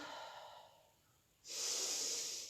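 Breathing during a Pilates elephant pose: a soft airy breath that fades, a brief pause, then a louder sustained forceful exhale close to the microphone, with no speech.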